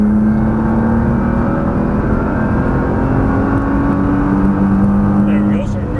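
A Nissan GT-R accelerates on a race track, its engine droning loud and steady with a rising whine from inside the car, while a person talks over it.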